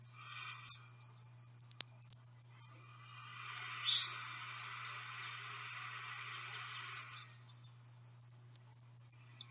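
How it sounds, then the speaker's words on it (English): Male prairie warbler singing two clear bouts of rapid buzzy notes that climb steadily in pitch like a staircase, separated by a quieter pause with faint background chatter of other birds. "So here is the song of a male prairie warbler."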